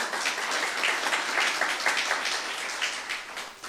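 A church youth congregation applauds during a sermon: a steady, fairly loud patter of many hands clapping together, with no voice over it.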